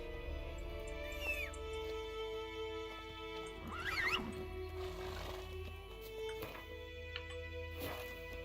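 Roach the horse from The Witcher 3 gives a whinny around the four-second mark, set against a steady game ambience with a droning hum and a few faint clicks and chirps.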